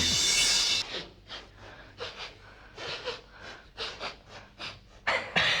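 A dog pants with its tongue hanging out: quick, rhythmic breathy huffs, close and moderately loud, repeating steadily through a hissy background.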